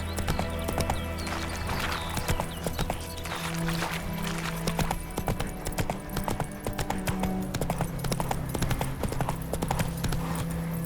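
Roach, Geralt's horse in The Witcher 3, trots along with steady, even clip-clopping hooves that sound close and continuous. A low ambient drone and occasional game sounds sit beneath the hoofbeats, and no one speaks.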